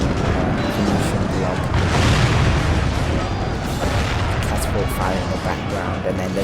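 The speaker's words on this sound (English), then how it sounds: "Catapult fire in the background" Dense battle din from a Medieval 2 Total War fight, with heavy booming catapult fire and rumbling impacts sustained throughout under a continuous roar of massed troops.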